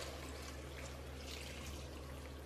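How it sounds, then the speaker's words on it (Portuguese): Hot water poured into a pot over cheese dough while making homemade mozzarella, a steady low trickle and splash running evenly throughout, fairly faint with a constant hum beneath. "coloquei toda a massa aqui numa panela e vou colocar água quente."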